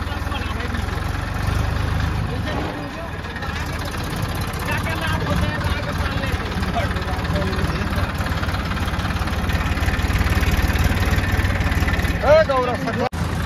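Tractor engine running, a loud steady low rumble throughout, with voices speaking over it.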